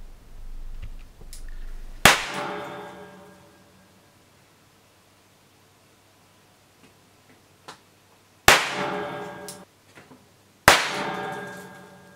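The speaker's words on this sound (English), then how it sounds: "And here we have a few shots. It only managed to do 4 shots." An old WW2-era German .22 caliber revolver fires three sharp, loud shots spaced several seconds apart, each with a ringing decay, with faint small clicks between them and no talking.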